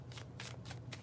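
Tarot cards given a bridge shuffle, about four quick riffling bursts in an even rhythm, soft and close with no voices.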